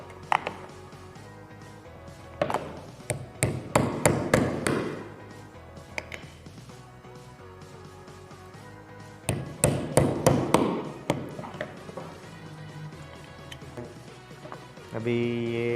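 A nail is hammered through a small painted tin box to punch two holes, sharp metallic taps in two bursts of several rapid strikes, close and fairly loud against a quiet background.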